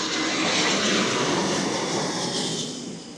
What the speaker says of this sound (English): We have big old airplanes that always pass by us.